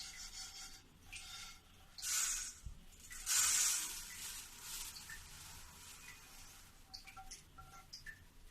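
Roasted sesame seeds are scraped and poured from one cooking pot into another, giving bursts of dry rasping and rustling with short scraping strokes, close and moderately quiet, no talking.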